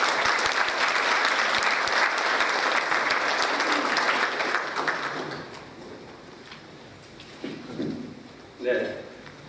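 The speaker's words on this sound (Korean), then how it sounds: "큰 박수로 맞아주시기 바랍니다." Audience applause welcomes a guest lecturer at an Atlanta advisory council event, loud and steady for about five seconds, then fading into a few scattered claps and murmurs near the end.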